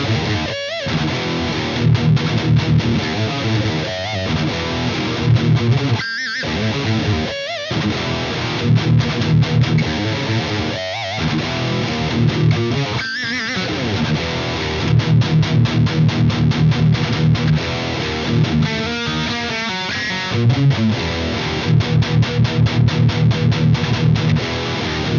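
Distorted electric guitar through a Marshall JVM410H head on the OD2 channel in orange mode, heavy saturated riffing with chugging palm-muted bursts, brief stops and pinch-like squeals over about twenty-five seconds, loud and alone.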